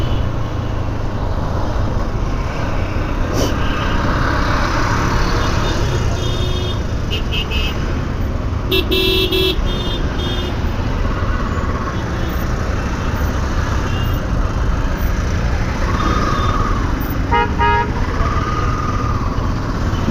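A traffic jam on a crowded road in Bangladesh holds a constant roar of engines and road noise, with short car-horn toots sounding now and then near and far, and someone talks over it.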